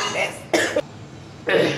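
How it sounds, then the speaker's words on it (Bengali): A woman coughs three times in short, harsh bursts, close to the listener, with brief pauses between them. "কাশিটা হয়েই যাচ্ছে"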